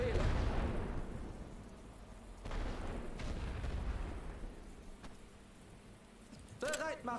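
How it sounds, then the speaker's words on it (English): Grenades blast in the World War I trench game The Great War: Western Front, a heavy boom opening the stretch, then duller distant thumps and crackling battle noise, with a brief whistle near the end. "Grenades took care of that."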